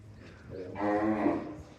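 A cow in a cattle shed at a large Tamil Nadu temple shrine gives a single long, close, resonant moo lasting about a second, with quiet background noise around it.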